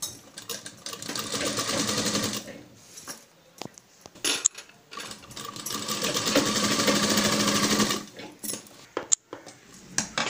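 A sewing machine stitching the sleeves of a dhoti dress hums in two long, rapid runs, separated by a pause filled with scattered clicks and handling knocks, close and clear with no talk.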